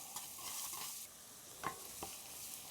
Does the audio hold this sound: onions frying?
yes